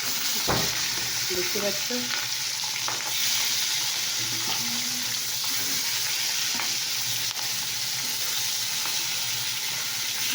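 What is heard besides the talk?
fish pieces frying in hot oil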